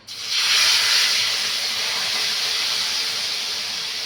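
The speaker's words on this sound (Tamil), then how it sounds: "கொஞ்சோண்டு தோசை மாவு ஒரு கரண்டி அளவுக்கு கலந்து தோசை ஊற்றுறேன்" Ragi poha dosa batter poured onto a hot pan bursts into a loud, broad sizzle that rises quickly and then settles into a steady hiss, close and alone.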